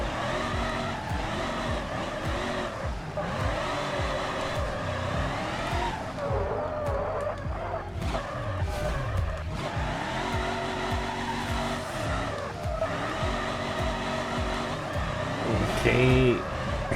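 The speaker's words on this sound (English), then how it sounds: "So let's get some drifting done" A car drifting in a racing video game, engine droning and revving steadily while tires squeal repeatedly through slides, with someone talking over much of it.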